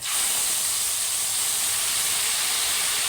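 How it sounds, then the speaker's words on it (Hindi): Tomato paste hits a hot pan while cooking daal mash, giving a loud, steady, close sizzling hiss that holds unbroken throughout with no voices. "अब जो पेस्ट बनाया था टमाटरों का वो डाल लेंगे"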